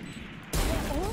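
A wall-bang gunshot through a wall in Valorant, a single sharp burst cutting in halfway through and ringing on loudly over game noise, with faint voice-like tones underneath.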